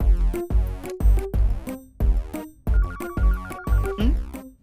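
A mobile phone ringtone plays loudly and alone, a repeating melodic jingle of bright electronic tones in steady bursts that continue throughout.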